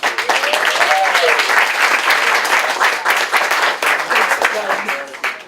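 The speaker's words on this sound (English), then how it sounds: "So, round of applause, please." Wedding guests applaud with loud, sustained clapping that fills the room for several seconds, with a few voices calling out over it.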